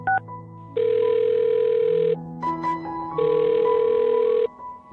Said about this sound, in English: I'll dial her phone number right now and see if we can figure it out